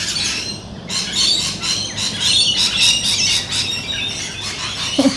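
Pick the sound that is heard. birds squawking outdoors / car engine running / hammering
birds squawking outdoors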